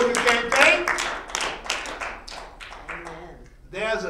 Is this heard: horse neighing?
no